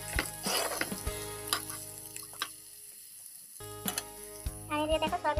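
Food sizzles and fries in a pan on a home kitchen stove, a hissing crackle broken by a few sharp utensil clicks and a short near-quiet gap, with music playing in the background.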